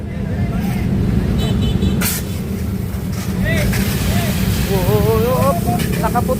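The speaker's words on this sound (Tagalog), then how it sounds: "Maagang traffic." Early-morning road traffic on a bridge in Manila, with steady engine drone, passing vehicles and hissing brakes close by, while people talk over it.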